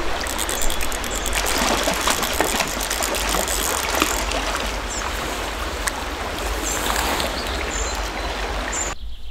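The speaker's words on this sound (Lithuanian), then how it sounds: "šiandien esam prie vienos nuostabios lietuviškos upės" Lithuanian river flowing steadily where anglers wade in to fish for trout, a continuous close rushing and gurgling of water that holds evenly throughout.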